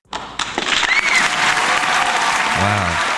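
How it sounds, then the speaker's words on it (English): A crowd bursts into clapping and keeps up a dense, loud round of applause, with a brief low vocal sound near the end. "Wow, that is a great applause."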